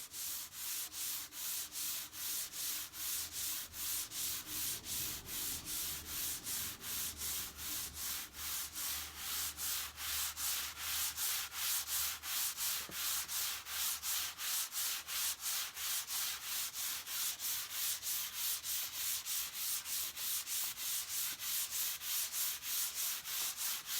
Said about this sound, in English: you can hear the difference in the sanding